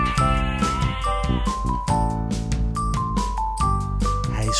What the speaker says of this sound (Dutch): kijk dat geitje eens